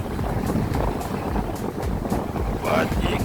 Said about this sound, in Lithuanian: Patikėkit, vėjas blemba štorminis.